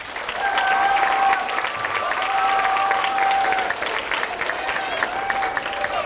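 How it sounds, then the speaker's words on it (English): An audience at a school district event gives a sustained round of applause, loud and even, with a few voices and whoops rising over the clapping. "Another big round of applause."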